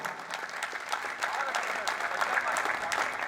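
A hall audience at a poetry and song event at IIT Jodhpur breaks into applause, a dense, continuous patter of many hands clapping at steady loudness for a few seconds.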